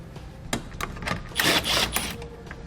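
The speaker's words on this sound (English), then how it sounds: "So we'll remove these screws" Short clicks and ratcheting taps of a tool backing out 10mm taillight screws on a 2017 Chevrolet, close and fairly quiet, a few distinct bursts over a couple of seconds.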